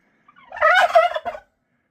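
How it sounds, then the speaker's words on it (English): A bird, taken for a turkey, gobbles in one close, loud burst of rapid warbling calls lasting about a second, beside a small ice shelter that blocks the wind in cold weather. "You're a pretty smart bird."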